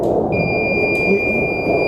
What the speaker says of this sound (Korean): 위험하다고 경보를 내게 됩니다